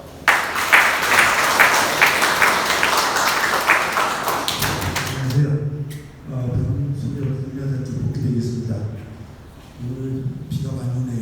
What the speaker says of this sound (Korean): 복기대 교수님을 뜨거운 박수로 모시겠습니다.